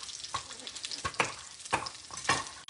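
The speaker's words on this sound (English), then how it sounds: "let me give my pot stickers another stir here" Potstickers sizzle in a stainless nonstick wok while being stirred, with a steady close fry hiss broken by several loud scraping stirs at irregular intervals.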